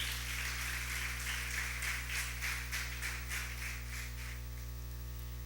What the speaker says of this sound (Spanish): Demos un fuerte aplauso al Espíritu Santo de Dios.